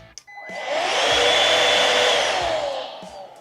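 A cordless vacuum cleaner, either a STIHL SEA 20 or a Bosch GAS 18 V-1, spins up after a click and runs as a loud, steady high-pitched whine with an airy rush, then begins to wind down, with no talking over it.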